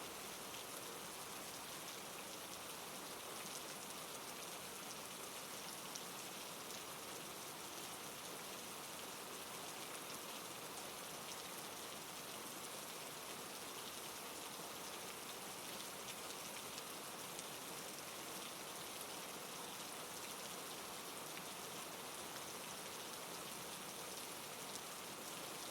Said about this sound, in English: The sound of the rain is the only sound